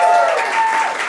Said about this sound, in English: One more round of applause for Mateo, right?